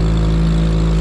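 Boat engine on a canal revving hard but failing to deliver power, a loud sustained droning roar with a strong steady low hum and no talk.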